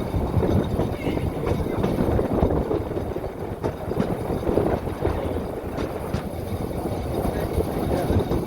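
A Dhaka to Cox's Bazar passenger train running, a steady broadband rumble and rattle of wheels and carriages held at an even level throughout, with no speech over it.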